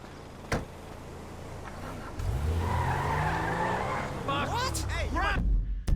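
A car in GTA V accelerates with a rising engine drone, then tires squeal in a skid near the end, with a voice talking over part of it.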